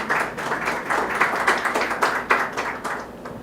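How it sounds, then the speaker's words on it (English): An audience at an awards workshop claps in steady, moderately loud applause that gradually fades toward the end. "give a warm applause for Mr. Yu."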